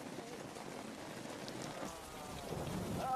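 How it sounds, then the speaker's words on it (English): Steady heavy rain pours down as a dense, continuous hiss, building slightly louder toward the end, with no voices over it. "it rains in torrents for a month"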